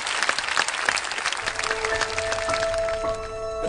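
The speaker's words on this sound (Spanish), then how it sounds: "un aplauso para Juan" A TV studio audience applauds Juan with a full, continuous round of clapping while sustained music tones rise in underneath toward the end.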